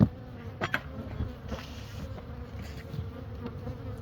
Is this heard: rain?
no